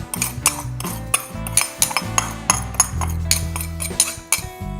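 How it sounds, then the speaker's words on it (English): Granulated sugar being whisked in a large bowl for lemon and raspberry muffins, with repeated close metallic clinks and scrapes of the whisk against the bowl in an uneven, busy rhythm, and a musical backing underneath. "We're gonna whisk together the granulated sugar"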